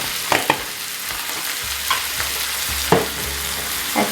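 Tomatoes stir-fry in a pan, a steady sizzle broken by several sharp scraping strokes of a spoon against the pan, with no talking.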